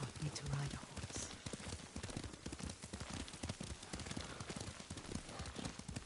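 Rhythmic horse hooves clip-clop at a steady gallop in Ghost of Tsushima, close and continuous, with clattering game sounds layered over the beat.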